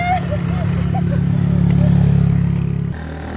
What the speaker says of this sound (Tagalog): Subida gisa lang maigi ang motor oh.